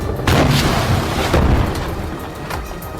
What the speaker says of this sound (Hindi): उन्होंने सामने की इमारत में खड़े इजराइल के एक सैनिक को निशाना बनाया और पूरी की पूरी इमारत को ही उड़ा